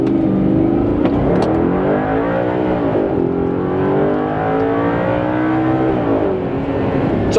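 A car in automatic mode accelerates hard on a racetrack, its engine revving loud and close in rising sweeps with shifts between them, sustained throughout.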